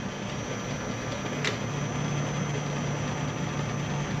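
A Logan model 1875 lathe runs steadily with its threading feed lever engaged, giving a constant mechanical hum and whir with one brief click near the start.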